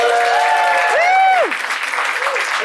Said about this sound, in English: And a huge round of applause to Izzy.